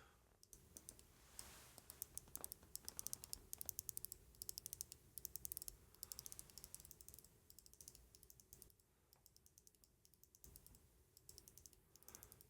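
Clicking of the top volume wheel on a Muzen Wild Mini speaker as it is turned, a fast run of small, crisp detent clicks in bursts, close and fairly quiet, with no talking.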